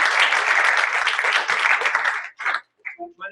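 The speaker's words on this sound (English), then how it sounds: "I'd like to just get a quick round of applause for Hotel Tonight hosting us" A meetup audience breaks into loud, dense applause that sustains for over two seconds, then trails off into a few scattered claps.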